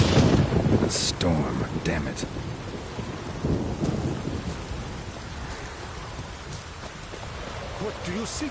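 Rain pours steadily in a video game thunderstorm, loud and close, with rumbling thunder through the first seconds, sharp crackles near the start and a dense hiss that continues throughout.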